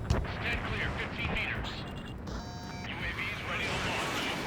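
Missiles streak and detonate in an aerial jet combat video game, a rumbling barrage of booms and rushing blasts with a brief beeping warning tone partway through, while a person talks over the action.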